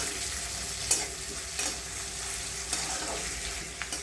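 Green chillies and boiled potato for sabudana khichdi fry in a pan, giving a steady, fairly quiet sizzle with a few light taps from stirring and no talk.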